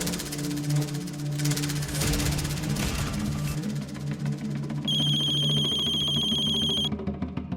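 Telephone rings during a dramatized call, a steady electronic ring tone sounding for about two seconds over a loud dramatic music bed.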